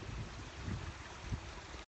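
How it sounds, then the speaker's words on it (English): Water from a backyard waterfall and stream rushes in a steady, close broadband wash, recirculating continuously without pause before cutting off abruptly. "That's my prayer stream waterfall I built in the backyard with my own hands."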